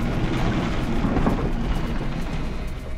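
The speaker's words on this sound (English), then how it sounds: "You could hear the hail hitting the plane." Hail pelting the outside of an airliner during a severe thunderstorm, a dense, loud, continuous rumbling roar of impacts with no clear breaks.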